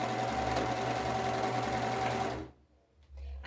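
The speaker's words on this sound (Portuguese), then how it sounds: "Ó, vou costurar e vou ver." A sewing machine stitches around a skirt hem in a steady, close whirring run for about two and a half seconds, then stops briefly before starting up again.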